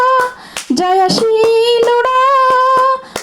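A church congregation claps in a steady rhythm along to a Telugu worship song, with sharp regular claps under a sung melody.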